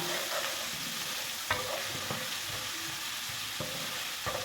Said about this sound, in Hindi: ऑयल हमारा अच्छे से गर्म हो चुका है। अब हम इसमें शामिल कर देंगे 1 चम्मच अदरक और लहसुन का पेस्ट।